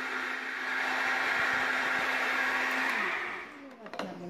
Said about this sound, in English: All right, blend it, blend it, blend it. And we're still blending.